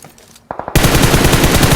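Automatic weapon fire in the PUBG battle royale game, beginning with a few quick single shots and moving straight into a loud, close, rapid burst that holds steady to the end.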